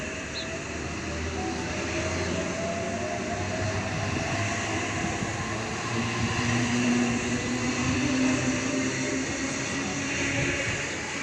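A Kiama-bound train pulls away from platform 4 at a station, a steady broad rumble and rolling hiss that swells slightly as it goes, with no talk.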